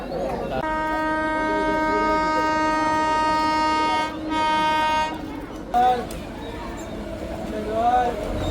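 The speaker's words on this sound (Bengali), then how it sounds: "রামনগর স্টেশনে ক্রসিং হবে তামিলনাড়ু এক্সপ্রেসের সাথে।" A Tamil Nadu Express crossing at Ramnagar station sounds a loud, steady horn blast for about four seconds, a brief gap, then a second shorter blast. Rumbling and scattered voices follow.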